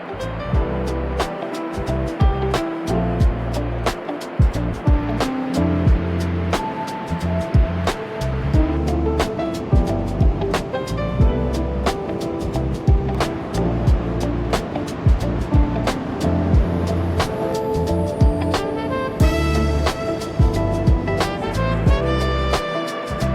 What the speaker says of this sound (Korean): 파도가 여기가 지금 어마어마해요.